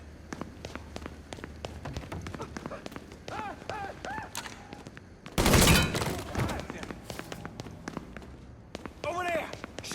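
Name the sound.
gunfire in the video game Mafia 3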